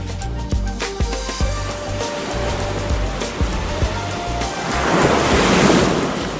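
Stormy autumn sea on the rocky Baltic coast at Skagsudde, with waves breaking and surging under strong gusting wind that roars into the microphone, the surf building louder toward the end.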